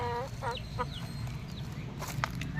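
Chickens that struggle to walk and stand cluck in short, warbling bursts close by, with a few sharper calls near the end over a steady low background hum.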